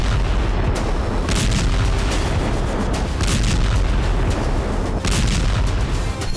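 Missile strikes on Russian positions along the Crimean coast send out repeated heavy booms and bursts over a dense, continuous rumble, loud throughout with no voices.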